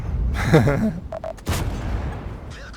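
The cannon of a Tiger (P) tank in World of Tanks fires once, a single abrupt blast that fades away, heard just after someone talks briefly.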